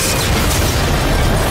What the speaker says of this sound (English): The player can take out the wind cannons in any way they choose. Right now we're using the railgun, one of the many new weapons in the game.